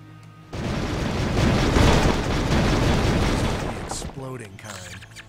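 A big explosion rumbles in the video game Will Rock, a loud, sustained roar that swells for several seconds and then fades, followed by a brief voice.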